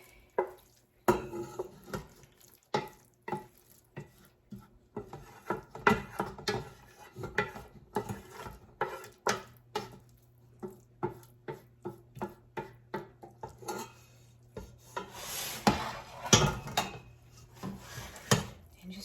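Spaghetti for lo mein is stirred in a pan, making repeated clinks and scrapes in an uneven rhythm, close and moderately loud, with a denser clatter near the end.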